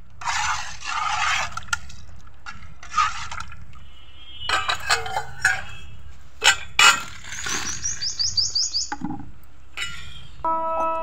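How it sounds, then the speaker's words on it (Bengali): Milk is stirred into sugar syrup in a pot for laccha semai. Close, intermittent liquid swishing and sloshing mixes with spoon scrapes, clinks and a few squeaky creaks. "এভাবে দুধগুলোকে চিনির সেরার মধ্যে আম্মা নাড়াচাড়া করছে।"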